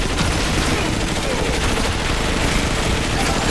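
Enemy gunfire in the Marvel Powers United VR game, a steady dense barrage of rapid shots that stays loud and unbroken throughout without pause.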